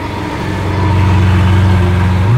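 Lamborghini Veneno Roadster engine revved up to about 3,000 rpm, a loud low rumble that swells and rises in pitch near the end, heard alone and up close.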